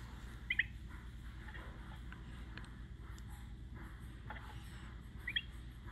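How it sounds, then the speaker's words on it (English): A wild bird near a solar-powered smart bird feeder gives a couple of brief, faint chirps, one early and one near the end, over a quiet outdoor background hum. "What kind of bird is that?"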